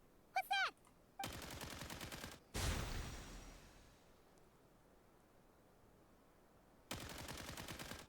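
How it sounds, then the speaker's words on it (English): Rapid automatic gunfire bursts in the free-to-play game AR60, a few separate machine-gun volleys with a heavy blast in between and quieter stretches, plus a brief voice at the start. "Guns."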